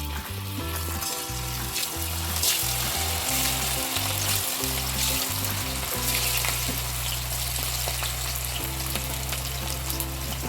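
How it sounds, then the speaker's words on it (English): Marinated cauliflower florets deep frying in heated oil for Gobi Manchurian, a steady, dense sizzle and crackle running throughout, close and fairly loud, with a low steady hum beneath and no talking. "We'll deep fry the cauliflower which we have marinated."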